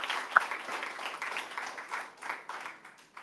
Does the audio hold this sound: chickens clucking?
no